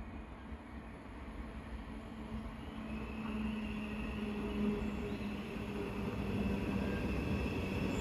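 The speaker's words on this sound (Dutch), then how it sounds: "hier komt de trein aan." A small three-part train arriving at a Dutch station makes a low, continuous rumble that grows slightly louder as it draws nearer, with faint high-pitched wheel squeal above it and no voices.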